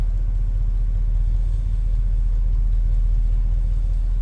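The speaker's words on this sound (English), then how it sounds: "A little rumble coming out of that 455." 1970 Pontiac Bonneville convertible with a 455 V8 idling, a steady low exhaust rumble heard from behind the car, continuous and close with no revving.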